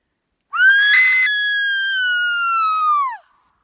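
A woman screams outdoors in the wilderness of Woodland Caribou Provincial Park: one loud, high, sustained cry of nearly three seconds that holds steady and then drops away at the end.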